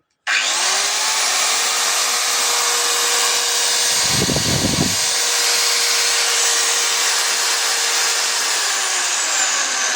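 Heavy-duty electric power tool (core drill, breaker or grinder) starting up and then running at a steady high-pitched whine for ten seconds, loud and close, with a brief low rumble midway.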